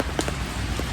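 Rain falls steadily in a garden in Mallorca, Spain, a dense, even patter filling the background with a few brighter drop hits standing out and no voices over it.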